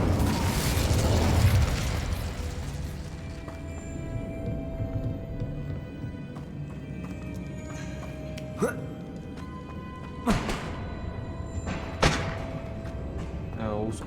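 Fire spells cast in Hogwarts Legacy, a burst of rumbling blasts at the start followed by scattered sharp magical pops and whooshes over a steady game ambience, with a voice speaking at times.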